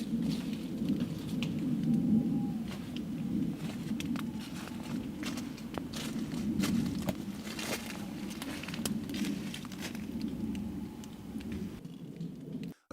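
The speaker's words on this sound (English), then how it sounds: "Footsteps, slow, deliberate, crunched on the fallen leaves, inching closer." Slow, deliberate footsteps crunching on fallen leaves in a forest at night, a continuous rustling crunch against a steady low ambient rumble, with no talk.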